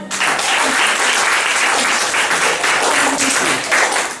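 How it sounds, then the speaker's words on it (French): A church congregation applauds loudly and steadily throughout, dense sustained clapping with no pauses during a deliverance service. "Acclamez Jésus"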